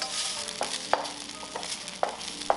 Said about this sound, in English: freshly steamed rice requires longer frying with more patience